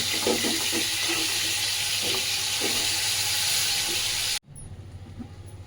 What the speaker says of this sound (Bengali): এবার আমি তব সব তরকারিগুলো একসাথে দিয়ে ভেজে নিচ্ছি